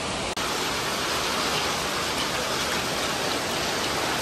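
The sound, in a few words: rain falling on the street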